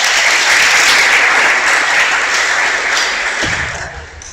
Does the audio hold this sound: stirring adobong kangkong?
no